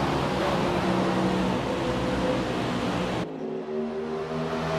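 Race cars coming onto the front stretch at Watkins Glen roar in a dense engine wash that cuts off abruptly, leaving a quieter droning engine with harmonic tones.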